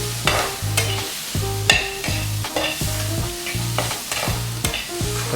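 Tomatoes frying in a pan, with a steady sizzle and a spatula scraping and stirring in a regular rhythm of repeated strokes, close and fairly loud, with no voices.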